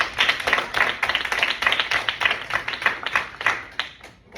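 A class of children claps in unison on a teacher's call, a long run of quick, even hand claps that continue steadily to the end.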